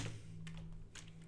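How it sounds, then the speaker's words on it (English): Keys clack on a computer keyboard in a short, quiet run of a few taps while coding VBA, close by over a steady low hum. "If I just go to the immediate window and type something in here"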